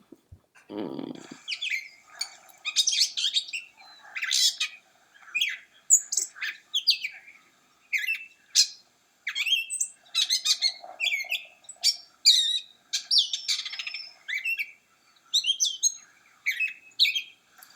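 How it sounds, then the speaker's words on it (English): Lively bird chirps and tweets repeat in quick bursts throughout, close and clear, with a brief low thump near the start and no talking. "I'm very excited about my sound, but it's not surprising because it's about a bird."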